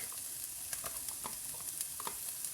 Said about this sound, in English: I'm going to go in with 20 grams of chopped garlic